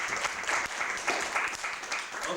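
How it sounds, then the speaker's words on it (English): Brief round of audience applause at a poetry night at the Amersham Arms, a lively burst of clapping in a small venue lasting a couple of seconds, fairly close and uneven. "A round of applause,"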